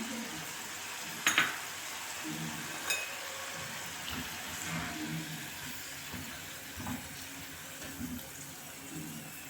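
Jackfruit seeds sizzling in hot oil as they are scooped out of the pan, a soft continuous frying hiss broken by a few sharp metallic clinks of a spoon against the vessel.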